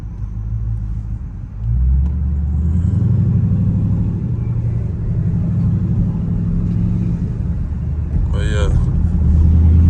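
Deep, steady Dodge Charger Scat Pack exhaust rumble idling and swelling slightly, loud and close, with a brief higher whine near the end.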